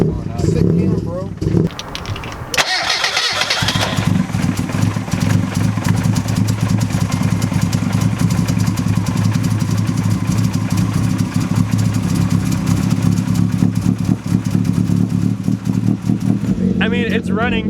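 A rough, loud race car engine running on Everclear fuel idles continuously with an uneven, clattery rumble, after a brief burst of noise and a few starting sputters.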